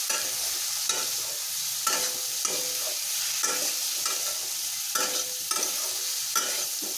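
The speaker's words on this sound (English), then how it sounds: "Fry it slightly, then add well-boiled fried cassava. Mix it nicely." Boiled cassava being fried and stirred in hot oil, with a steady sizzle and repeated scraping stirs at a regular rhythm, close up and without talk.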